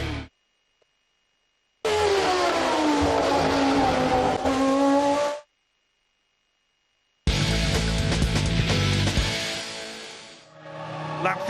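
Formula 1 cars racing at the 2005 German Grand Prix: two bursts of loud, high-pitched engine scream with rising and falling pitch as cars rush past, separated by silence, ending with a fainter engine tail.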